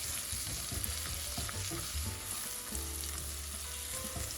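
Salmon sautés in vegan butter and olive oil in a pan, a close, steady sizzle with stirring scrapes and soft pops running throughout.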